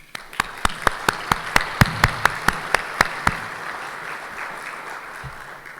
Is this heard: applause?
yes